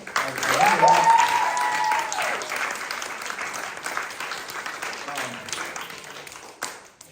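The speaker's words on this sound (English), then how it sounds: "So please, round of applause too for all the honorable mentions." Sustained audience applause honoring the honorable mentions at a Monterey County youth poet laureate commencement, loudest at the start and then easing to a steady patter, with a voice briefly audible over the clapping early on.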